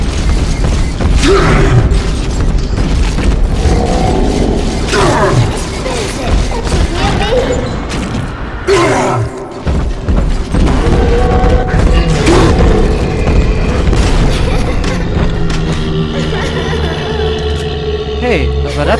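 Loud, busy BioShock 2 game action with heavy booming cannon blasts and mechanical clatter repeating throughout, some deep impacts standing out near the middle.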